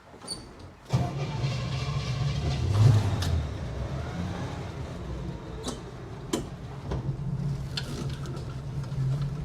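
A 1963 Chevrolet panel truck's engine rumbles along at low pitch, with rattles, clicks and a few sharp knocks as it drives; no one speaks.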